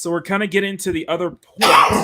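A single sharp sneeze bursts out right after a stretch of casual talk, loud and close, breaking into the speaker's voice during a live art stream.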